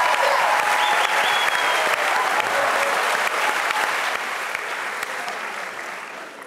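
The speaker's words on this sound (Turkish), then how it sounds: "Alkışlarla uğurluyoruz" Loud, sustained applause from a studio audience at Yetenek Sizsiniz Türkiye, the Turkish talent show, filling the hall steadily and easing off slightly toward the end.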